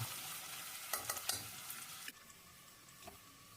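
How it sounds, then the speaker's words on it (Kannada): Chopped onion sizzles in hot oil in a pan while a chicken dum biryani is cooked, with a steady frying hiss and a few quick scraping stirs before the sizzle settles down. "ಈರುಳ್ಳಿನೂ ಕೂಡ ಒಂದು ಅರ್ಧದಿಂದ ಒಂದು ನಿಮಿಷ ಫ್ರೈ ಮಾಡ್ಕೊಳ್ಳೋಣ"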